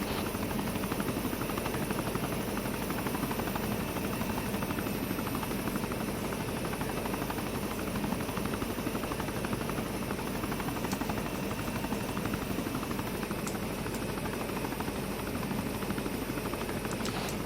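Helicopter touching down in a video game, its rotor drone a loud, steady, unbroken whir for the whole stretch with no speech over it.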